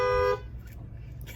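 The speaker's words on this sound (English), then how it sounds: "So we're honking" A car horn sounds in one loud, steady blast lasting about a third of a second, followed by a quiet interior with faint movement and a short burst at the very end.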